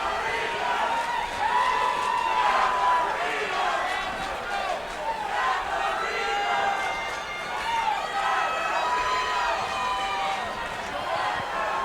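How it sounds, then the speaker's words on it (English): A crowd at an amateur charity boxing match keeps up a steady, fairly loud roar with rising cheers and shouts throughout, while a commentator talks over the noise. "It's sounding like we've got a pretty decent amount of crowd support on both sides."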